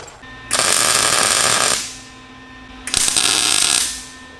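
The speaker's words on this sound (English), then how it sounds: "I went to weld and I hit a bead real quick" A welder tacks beads on a hardtail frame for a Honda Shadow bobber build, making two loud, crackling, hissing buzzes of about a second each, separated by a short pause, close up.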